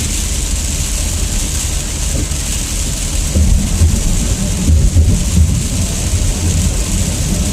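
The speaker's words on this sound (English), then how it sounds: "it's raining heavier now" Heavy rain pounds a moving car on a highway drive, a loud, constant wash of rain and road noise with deep rumbling underneath that swells somewhat midway, and no speech over it.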